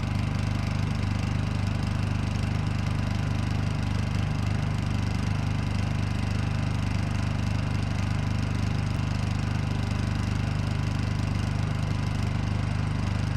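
A Honda EU2000i 2,000-watt portable generator idles steadily, a low, even engine hum with a quiet mechanical whir that holds constant throughout with no talking.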